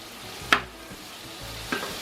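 Parboiled potatoes frying in a pan for a garbage plate, a steady low sizzle broken by two sharp scraping stirs of the spatula, close and with no talking.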